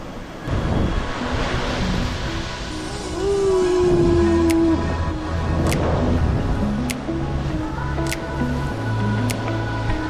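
Surf washing in along Someshwara Beach, a steady broad rush of waves with wind noise on the microphone, loud and continuous throughout, with no one speaking.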